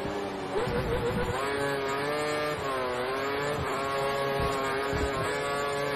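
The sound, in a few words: Ferrari F1 car sliding, from video game F1 2013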